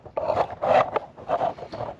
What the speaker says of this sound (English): So I take those two screws out first using my T3